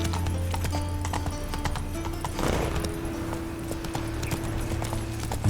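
Roach the horse gallops in The Witcher 3, steady clip-clop of hooves at a running rhythm with a brief neigh, heard up close over a constant game ambience and low drone.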